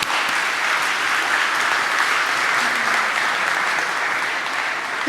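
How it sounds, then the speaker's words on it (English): An audience at an engineering awards gala bursts into applause, a dense, even wash of many hands clapping that holds steady and loud for several seconds. "Give yourselves a round of applause."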